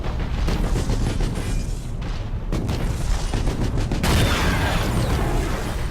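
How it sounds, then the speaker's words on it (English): Torpedo strike explosions in the space battle game Battlefleet Gothic Armada: a dense, continuous roar of booming blasts and rumbling impacts, loud and close throughout, swelling into a heavier burst near the end. "it's time for another torpedo strike"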